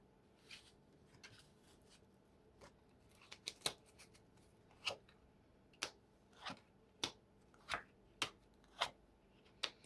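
Rose gold tarot cards are handled and shuffled nearby in a run of sharp, evenly spaced snaps and riffles over quiet room tone, and no voice is heard.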